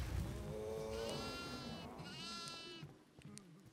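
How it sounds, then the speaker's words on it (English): A goat bleats in the horror video game Devour, a long wavering cry followed by a second shorter bleat, loud and close with faint background noise. "There's a goat in here."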